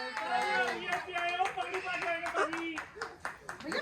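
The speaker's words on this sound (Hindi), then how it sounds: "तालियां तालियां तालियां।" Clapping at a night-time barbecue party as guests cheer an arrival, quick uneven hand claps mixed with lively chatter and voices throughout, close and moderately loud.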